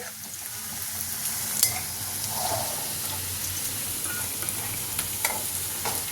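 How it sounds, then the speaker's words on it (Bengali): Mushrooms frying in a pan for a mushroom curry, giving a steady, close sizzle with occasional stirring scrapes, heard alone without talk. "দু থেকে 3 মিনিট ফ্রাই করলেই কিন্তু মাশরুমটা হয়ে যাবে।"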